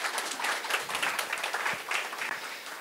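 An audience at a seminar claps steadily, dense and continuous applause filling the room without pause.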